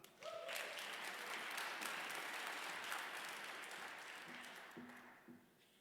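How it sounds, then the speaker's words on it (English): Audience applause at a startup demo day in Melbourne, a broad steady wash of many clapping hands that holds for several seconds and then slowly fades. "please give a warm round of applause to Cindy Shea"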